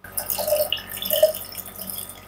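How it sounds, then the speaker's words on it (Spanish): Water poured steadily into a container resting on a weighing scale, a soft splashing trickle with faint gurgles, heard alone at moderate level. "Y ahora le vamos a ir agregando agua"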